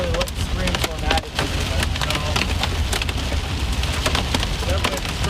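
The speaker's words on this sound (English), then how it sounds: "Definitely destructive hail." Destructive hail pounds down during a supercell thunderstorm on the eastern Colorado and Oklahoma Panhandle plains, a loud, dense, continuous clatter of sharp impacts with voices talking over it.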